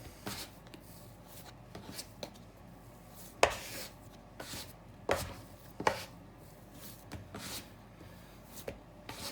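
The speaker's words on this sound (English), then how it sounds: "So I just use the dough scraper." Dough scraper working sticky sourdough on a work surface, giving a run of dry scraping and tapping strokes at an irregular rhythm, with a few sharper knocks as the blade meets the surface, close and fairly quiet.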